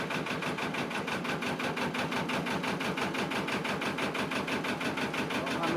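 Narrowboat diesel engine running in gear, a steady close rhythmic chugging with constant vibration that holds unbroken throughout.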